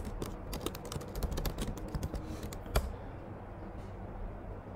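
Rapid clattering keystrokes on a computer keyboard come in a quick burst that stops after about three seconds, leaving only a faint room hum; no one speaks.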